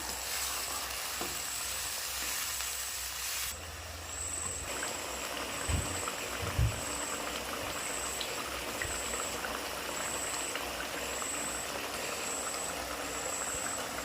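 Potato gravy simmers and bubbles in a pan, a steady, close hiss of boiling liquid that runs throughout, with a few faint knocks partway through.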